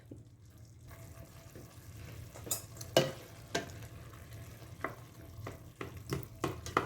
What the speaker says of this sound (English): we're gonna cook everything down in some butter